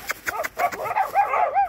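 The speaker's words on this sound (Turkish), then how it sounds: "Ooo, kangalların yanına geldik." Kangal dogs bark and yip in quick, close bursts, with whimpering, whining tones layered between the barks at a pen holding puppies.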